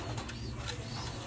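Pigeons in a loft give a brief, soft, low coo over a steady background.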